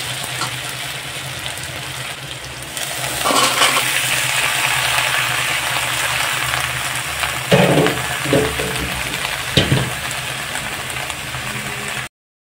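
Green chili and ginger paste is stirred in a hot pan over a steady, loud sizzling hiss, with a few scraping knocks from the spoon partway through.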